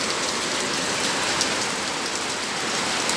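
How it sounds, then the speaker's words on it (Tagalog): Heavy rain with strong wind during a storm in Butuan City, Philippines: a dense, steady roar of rainfall and gusts, loud and close, with no voices. "Lakas na yung hangin. Hangin at saka ulan."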